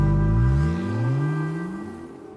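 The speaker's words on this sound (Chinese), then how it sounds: "然后还有这个汽车油门的声音" Car accelerator revving used as a sound effect in a song, an engine note sweeping up in pitch and then easing off, loud at first and fading, heard alone.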